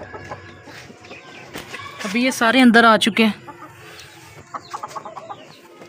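Chickens cluck and squawk inside a coop, a loud burst of agitated calls in the middle with softer clucks before and after, while someone talks nearby.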